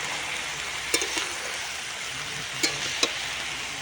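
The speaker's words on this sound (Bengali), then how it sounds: "তো চলো এটাকে ভালো করে নেড়ে নিই" Spinach greens with salt and green chilli being stirred in a pan over an outdoor clay stove, a soft steady sizzle broken by a few scraping clicks of the spoon.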